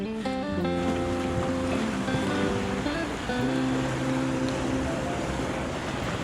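Steady ocean surf washing onto an empty resort beach, a continuous wash of waves heard alone under background music.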